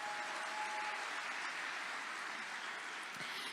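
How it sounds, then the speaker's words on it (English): Steady applause from a conference audience at a developer productivity talk, a dense even wash of clapping that holds at a fairly soft level from start to finish with no voices over it. "Please give yourself a round of applause."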